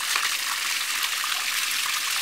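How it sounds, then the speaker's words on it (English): Water gushes steadily from a clogged valve that has just been cut open with metal shears during a home repair, a dense continuous hiss and splash close by with no talk. "Now I've got water all over the place."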